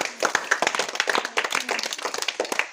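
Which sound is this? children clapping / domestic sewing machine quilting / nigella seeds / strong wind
children clapping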